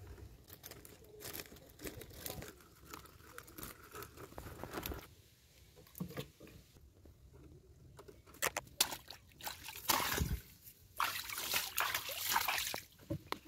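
Live koi fish thrash in shallow water as one is lifted out, with close irregular splashes and dribbles that build into louder flurries toward the end.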